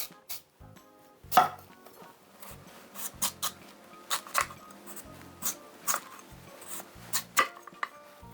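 A knife cuts an unpeeled radish into halves for kimchi: a run of irregular, crisp chopping strikes on a board, close and fairly quiet, with faint handling noise between cuts.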